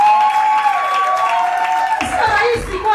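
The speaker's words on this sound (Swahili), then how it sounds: "Wacha tupigia kaka mrembo makofi." Audience at a church dinner gathering clapping for a speaker, a burst of handclaps with some cheering that swells near the end, over ongoing music and voices.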